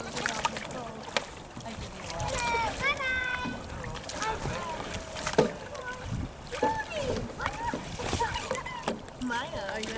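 Canoes pull away from a dock with irregular paddle splashes and water sloshing, mixed with people talking and calling out nearby.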